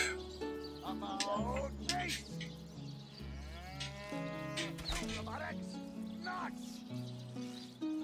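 Sheep bleat in the fantasy role-playing game Divinity: Original Sin, a run of loud, drawn-out, overlapping calls at close range that continues throughout.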